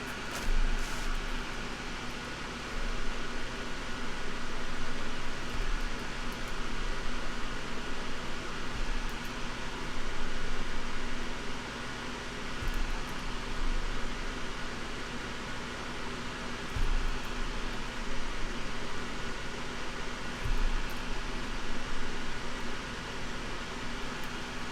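An electric fan running steadily, producing a constant broadband whooshing hum like white noise, faint and unchanging for the whole stretch with no voices.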